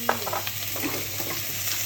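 Pork and ginger frying in hot oil in a pan, a steady close sizzle with occasional scraping stirs, no voices.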